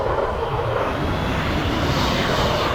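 Eurofighter Typhoon jet engines in Microsoft Flight Simulator 2020 spool up as a steady, loud, broadband roar that builds slightly with no talk.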